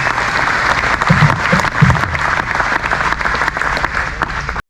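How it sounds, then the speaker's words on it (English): Crowd applause for a Won Bass Hall of Fame Class of 2022 inductee at Lake Mohave, a steady dense clapping that carries through with a few brief voices mixed in. "Round of applause again for Mark Nicoletti,"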